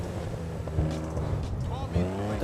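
A sports car engine in the video game GTA Online revs and lets off with popping crackles, loud and close, over a steady mechanical drone with a voice talking across it.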